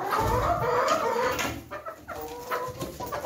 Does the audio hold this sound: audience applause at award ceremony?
no